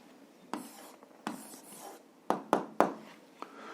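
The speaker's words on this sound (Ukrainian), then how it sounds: "записуємо відповідь, пишемо відповідь" Pen writing an answer on paper during a seventh-grade algebra lesson, with several short scratchy strokes and taps close by, fairly quiet and without speech.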